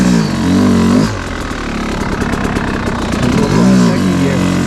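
An enduro motorcycle engine revs hard, then drops to a rough, pulsing idle before climbing again into another loud rev, all close and with no talking.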